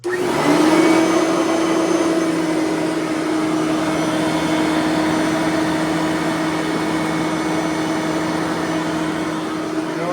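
A Bissell 3510 vacuum cleaner picks up fine dust, its motor running as a steady, loud drone with a constant whine throughout, nobody speaking over it.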